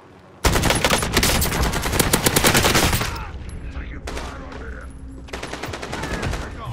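Rapid bursts of automatic gunfire in Call of Duty: Modern Warfare crackle loudly for a few seconds, then quieter scattered shots and further bursts follow, with no clear talk over them.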